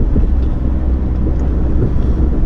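Cars passing on a road give a continuous low rumble of traffic, fairly loud and steady, with engine noise swelling slightly as vehicles go by and no voices.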